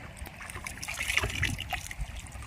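River water trickles and splashes steadily nearby in a dark riverbed during a night metal-detecting treasure hunt, a continuous gurgling flow with faint voices underneath.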